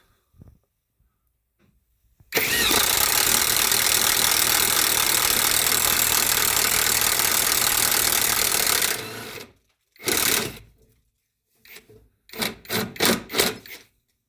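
A Top Shak brushless impact wrench spins a 1/4 inch drive spade bit, giving a loud, steady roaring whir for about seven seconds, then a few short separate bursts near the end.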